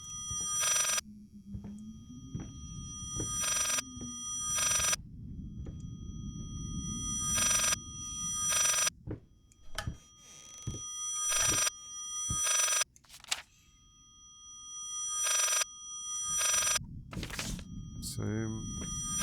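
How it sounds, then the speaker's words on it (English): A telephone in the Layers of Fear VR game rings in repeated bright paired bursts with short silences between them, and a low voice murmurs faintly in the gaps. "So it won't let me answer the phone."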